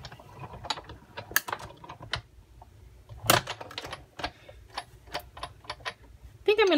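A hand-cranked die cutting machine feeds paper under a cutting plate, giving a rapid ratcheting series of clicks and gear ticks with occasional louder knocks, close and fairly loud.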